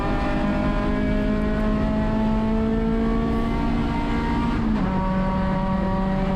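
Acura RSX race car on slick tires at Sonoma Raceway, its engine holding a loud, steady droning tone at constant power, then dipping slightly in pitch near the end as a shift or lift comes in.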